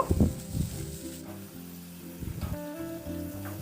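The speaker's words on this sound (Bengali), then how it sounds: "এবার এই মশলাটা নাড়াচাড়া করে একটু কষি নেব" Masala paste thinned with a little water sizzles and bubbles in the pan while being stirred and fried nearby, with scraping strokes over a steady hiss.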